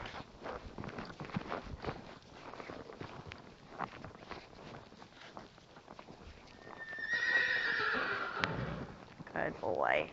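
A horse walks and whinnies during a riding training session, clip-clop hooves steady under a rider's frequent talk, with a loud, drawn-out neigh rising near the end.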